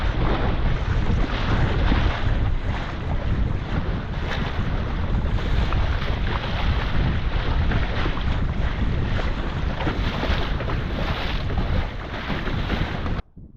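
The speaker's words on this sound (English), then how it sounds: "We have some wind. It's quite a wet ride." A sailboat out in winter Norway, under steady roaring wind and rushing, splashing water, with loud constant buffeting against the microphone and no talk.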